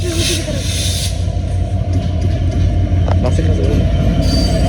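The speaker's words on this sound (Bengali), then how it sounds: "এই দেখো ট্রেন আসতেছে" A train pulls into a railway station in Bangladesh: a loud, steady rumble of rolling cars with bursts of high hissing or squealing at the start and near the end, while people talk nearby.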